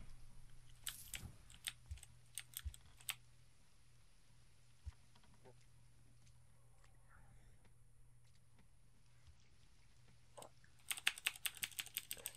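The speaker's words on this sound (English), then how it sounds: "sorry for the keyboard spam" Rapid bursts of computer keyboard typing clatter in dense clusters near the start and again at the end, with a quiet stretch of faint room noise in between, recorded during a PC game session of Thief.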